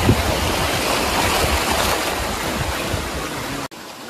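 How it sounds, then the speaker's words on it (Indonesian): A Yamaha 15 hp outboard motor pushes a boat upriver on the Sibau, a tributary of the Kapuas in West Kalimantan, its loud steady drone blending with rushing water and wind noise before a sudden brief dropout near the end. "di sini kita menggunakan mesin tempel 15 PK produksi dari Yamaha guys"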